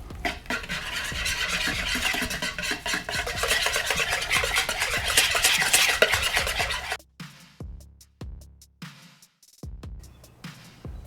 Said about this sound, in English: Give that a mix.